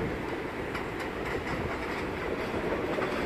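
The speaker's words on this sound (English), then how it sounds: "That's an A train." An NYC subway A train passes at Rockaway Boulevard station, a loud, close, continuous roar of wheels and rails with faint rhythmic clickety-clack running steadily throughout.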